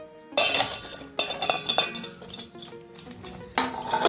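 Spoon clinking and scraping in a bowl while paneer pieces are mixed with spices and yogurt, repeated close metallic clatters in uneven bursts.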